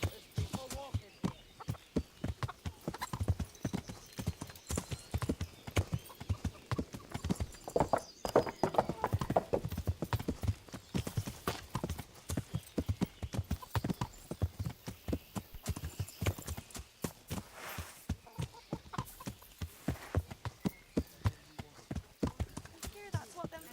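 Horse hooves clip-clop steadily in the medieval game Kingdom Come: Deliverance, with a brief whinny, over a continuous bed of ambient bustle and scattered voices talking throughout.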